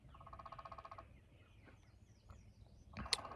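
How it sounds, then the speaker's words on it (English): A wild turkey jake gobbles far off in spring woods, a faint rapid rattling burst early on, followed by scattered quieter bird calls and a sharper nearby sound near the end. "I know I've heard at least one jake gobble"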